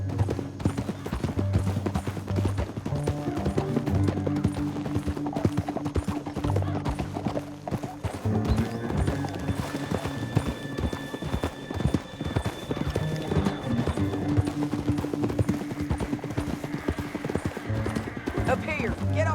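Horse hooves in the video game Red Dead Redemption 2 clip-clop in a steady rhythm beneath music and occasional voices, with a horse whinnying at one point.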